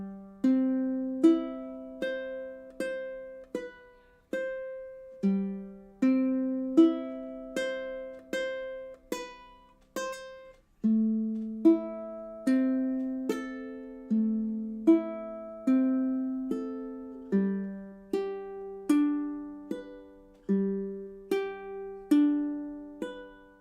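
Ukulele plays a tab-reading homework exercise as a slow melody of single plucked notes in steady phrases, each note ringing and decaying, close and alone for over twenty seconds.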